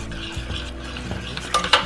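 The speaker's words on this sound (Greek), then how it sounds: "και ανακατεύουμε." Salt being stirred into tzatziki in a bowl, with a few soft scraping and clinking strokes of a utensil against the bowl, close and brief, loudest near the end.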